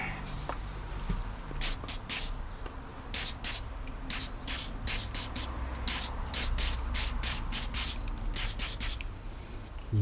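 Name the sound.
spraying throttle body cleaner on BMW engine part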